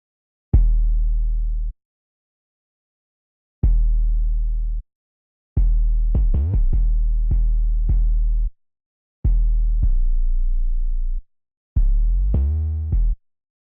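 A synthesized 808 bass pattern from a VST plays alone in sustained, booming notes with pitch slides, arriving in short phrases separated by gaps and growing busier toward the end.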